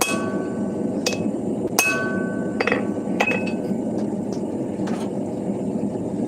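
Hammer blows ring on hot steel at an anvil while a hammer head is being forged and its divot shaped, giving irregular bright clinks over a steady background roar.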